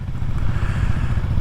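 A Kawasaki KLX 300SM motorcycle engine running, a loud, close, low rumbling idle with a rapid uneven thump throughout the short stretch and no voices.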